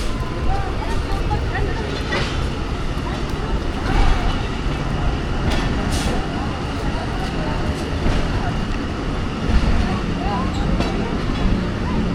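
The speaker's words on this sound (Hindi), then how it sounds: "2 मिनट रुकने के बाद डिपार्चर हो रहा है अटक सिटी जंक्शन से 40 डाउन जाफ़र एक्सप्रेस का" The Jaffar Express pulls out of Attock City Junction, a steady rumbling rattle of rolling railcars with occasional clanks and squeals, while someone talks over it.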